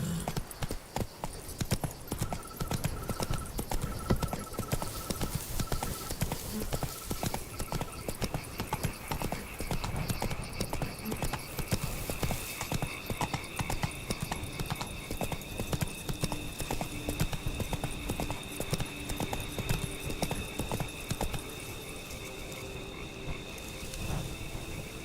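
Roach the horse from The Witcher 3 in video game play, steady rhythmic hoofbeats running through the whole stretch with a brief whinny, set against a croaking frog and insect chorus in the background.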